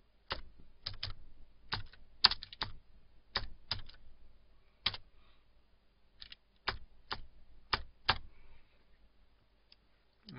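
Keys on a computer keyboard clack in uneven bursts of single taps and quick runs while text is entered in GIMP, close and crisp against a quiet room.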